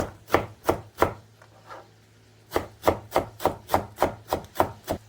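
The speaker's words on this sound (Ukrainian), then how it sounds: "Зараз ми його подрібнюємо, нашу зелень і відправляємо." A knife chops herbs on a board for a green bean dish, a few sharp strokes, a short pause, then a quick rhythmic run of close, crisp cuts.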